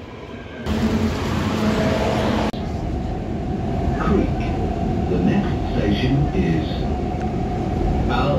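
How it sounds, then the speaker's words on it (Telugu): A driverless Dubai Metro train arrives at a station with a steady loud rumble and rising hiss that carries on throughout. Faint voices can be heard underneath. "ట్రైన్ వస్తున్నది ఇప్పుడు"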